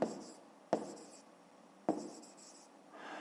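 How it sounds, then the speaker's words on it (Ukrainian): A pen scratches across paper in three short strokes, each beginning with a sharp tap and trailing off softly, faint and close in a quiet room. "Пишемо."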